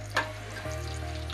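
Pastel pastries fry in hot oil with a quiet, steady sizzle, and one brief splashy crackle stands out near the start. No one speaks.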